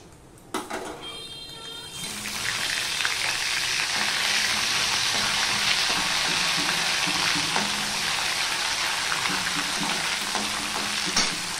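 Ginger paste drops into hot oil with whole garam masala in a home kitchen for a paneer dish, bursting into a loud, steady sizzle and fry that starts after a brief quiet moment and holds close and strong throughout.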